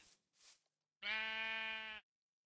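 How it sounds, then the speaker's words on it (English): A Minecraft sheep in the AbyssalCraft game lets out a single steady, nasal bleat lasting about a second, clear and close, after two short softer sounds. "Looks like that's all the sheep."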